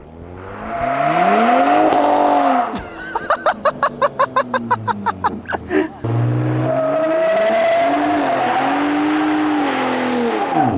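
A tuned Ford Raptor revs and launches on a private course, the rear tire squealing loudly off the line amid rapid pulsing engine bursts, then a sustained high engine whine as it pulls away.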